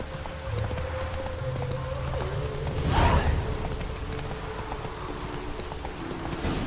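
Roach the horse galloping in The Witcher 3: Wild Hunt, a steady drumming of hooves under a low game soundscape, with a brief louder swell in the middle.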